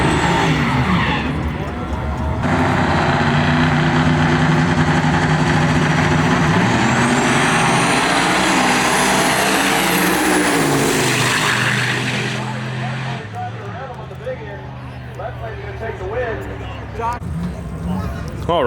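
Trucks and SUVs race down an eighth-mile drag strip at a Houston street car event, engines roaring loudly at full throttle for a long sustained pass, rising in pitch and then fading, with an announcer and crowd voices over it.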